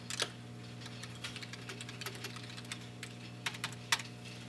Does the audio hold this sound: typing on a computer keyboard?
yes